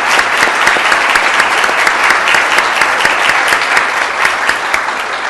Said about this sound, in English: So let's give all of them a big round of applause because they had a big role.